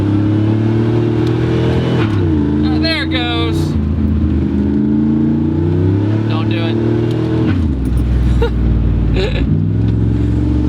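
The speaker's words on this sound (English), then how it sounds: "Every time you go into second, it just chirps" A 1980s Pontiac Firebird engine revs and accelerates through gears with brief tire chirps at the shift into second, while people talk over the engine noise.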